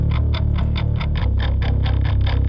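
Bass guitar joins a heavy metal mix of distorted guitars, its low notes thick and steady under bright rhythmic chugging that pulses evenly throughout.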